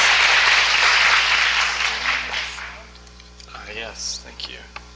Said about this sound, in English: let's give a round of applause for Aaron for the last keynote.